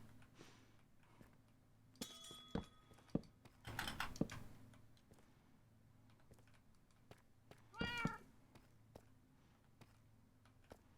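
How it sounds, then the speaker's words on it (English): A house cat meows a few times in a quiet room, with one drawn-out wavering meow standing out, mixed with scattered glassy clinks and keyboard typing, and faint voices in the background. "The cat's just going off."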